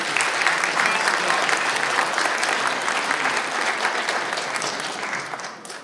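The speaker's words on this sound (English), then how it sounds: "Give them a round of applause" A Baptist church congregation claps for the people leading a service project at a Sunday morning service, a full, even wash of applause that holds steady for several seconds and tapers off near the end.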